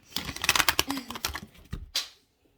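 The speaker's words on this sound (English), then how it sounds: "All right, let me shuffle again." A deck of cards is riffled and shuffled by hand, a rapid burst of crisp flutters and snaps that ends with a final slap as the cards settle, then quiet.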